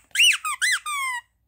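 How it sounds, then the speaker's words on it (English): A dog's squeaky toy gives four sharp, high-pitched squeaks in quick succession, close and loud, with the last one drawn out longer, alone in an otherwise quiet room. "Does that one squeak? It does"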